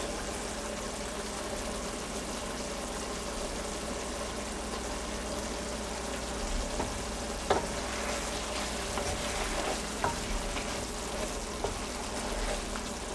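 Shrimp dopiaza frying in a pan with green chillies and coriander leaves, a steady soft sizzle with faint stirring scrapes and a few sharper clinks, no voices.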